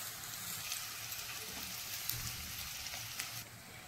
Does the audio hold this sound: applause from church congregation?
no